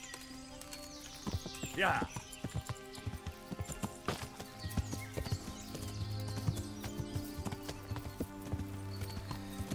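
A horse's hooves clip-clop at a steady riding pace across open countryside in the medieval video game Kingdom Come: Deliverance, with a brief whinny and someone speaking over the hoofbeats.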